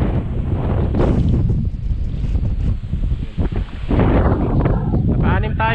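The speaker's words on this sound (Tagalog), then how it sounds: "Grabe, napakalakas ng hangin." Strong gusts buffet the microphone outdoors by the water during fishing, a heavy low rumble that swells and dips, with someone talking through it.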